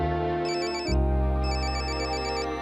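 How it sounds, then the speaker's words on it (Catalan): An incoming call sets a phone ringtone chirping in repeated electronic bursts, a short pattern, a pause, then the pattern again, loud over a steady background drone. "No agafes la trucada?"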